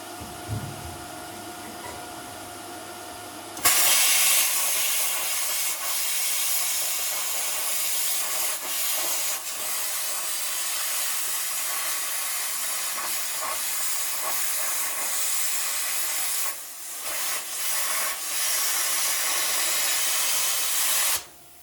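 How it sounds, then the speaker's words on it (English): A plasma cutter slicing through a metal shelf, starting after a quiet moment with a loud, steady, close-up hiss and roar that runs for about eighteen seconds, briefly dipping once before cutting off abruptly. "I got my plasma cutter here. I'm gonna try to cut this shelf out"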